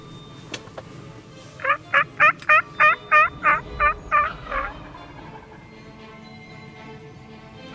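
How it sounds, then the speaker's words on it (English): Wild turkeys in South Carolina hardwoods gobble about 100 yards off, a loud rapid rattling burst of about ten pulses echoing over the quiet woods. "There's two birds over here gobbling about 100 yards away."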